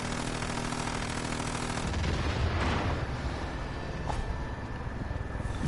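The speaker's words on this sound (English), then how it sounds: "Did you see the bliss explosion?" A blast from exploding bliss in the video game Far Cry 5, a loud broadband boom and roar that fills the scene, then decays into rumbling debris and a sharp crack near the end, with no voices.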